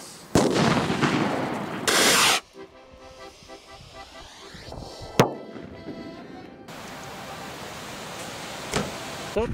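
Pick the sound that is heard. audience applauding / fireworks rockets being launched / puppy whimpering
fireworks rockets being launched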